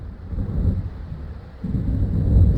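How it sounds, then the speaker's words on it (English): Deep rumble of thunder from an approaching storm in the video game Alan Wake, a low rolling roar that swells and builds toward the end, heard alone without speech. "It seems there's a storm coming."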